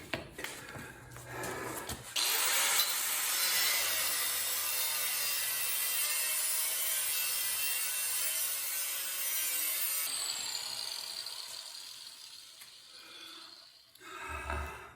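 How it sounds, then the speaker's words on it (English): A power tool cuts the metal hinge brackets off a cultipacker, a long continuous high-pitched grinding whine that holds steady for about eight seconds before tapering off, close and prominent. "I'm going to go ahead and cut those, what I call the hinge brackets off"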